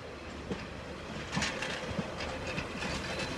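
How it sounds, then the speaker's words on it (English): A Northern class 144 train, unit 144002, rolls into platform 8 at Doncaster with soft rhythmic wheel clicks and faint rumbling, moderately distant and fairly quiet, with no voices. "Now arriving on platform number 8 at Doncaster will be your 1426 to Romeo 84 Northern service from Adwick to Sheffield."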